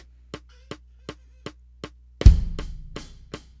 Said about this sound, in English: So playing that with a metronome would sound like this.